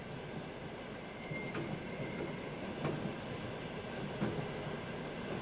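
A passenger train rumbles steadily along the rails with a continuous dense roar and faint periodic clicks of wheels over joints, heard from inside or close by, with no talk.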